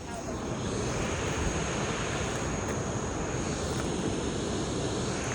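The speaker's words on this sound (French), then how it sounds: "Encore une cascade." A powerful waterfall in Da Lat, Vietnam, gives a constant loud broadband roar of rushing water that stays even from start to finish, with no pauses.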